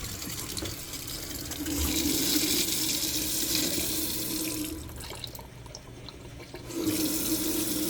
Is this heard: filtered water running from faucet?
yes